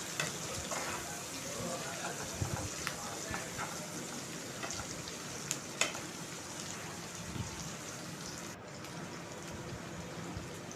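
Onions sauté in a pan until golden for egg noodle biryani, giving a soft, steady sizzle with a few scattered stirring clicks. It stays fairly quiet throughout, with no talking.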